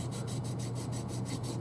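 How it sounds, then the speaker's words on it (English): Rhythmic back-and-forth rasping of sandpaper on wood, steady strokes repeating evenly, close up with no voices. "I'm just letting the sandpaper do the work."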